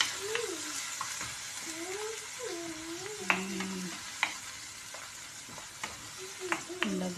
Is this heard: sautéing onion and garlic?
yes